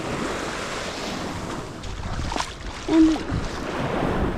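Waves wash onto a small rocky beach at Koh Lanta as a steady surf rush, mixed with wind buffeting the microphone, while a voice speaks briefly.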